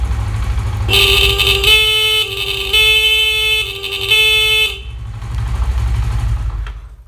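A Honda CD 70 motorcycle horn wired to run from a capacitor with no battery sounds in several sharp, loud buzzing honks of uneven length, with the engine idling underneath between and after the blasts.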